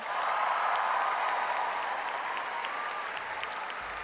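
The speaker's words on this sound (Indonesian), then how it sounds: "saya ingin kita kasih tepuk tangan yang meriah untuk Mas Pri GS" A studio audience gives a lively round of applause for a guest on a talk show, a dense, even wash of clapping heard alone, strongest at the start and tapering gently.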